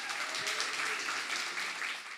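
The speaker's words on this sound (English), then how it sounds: "So big round of applause for Leah as well" Steady audience applause at a sports summit, a continuous wash of many clapping hands heard from a moderate distance at even loudness throughout.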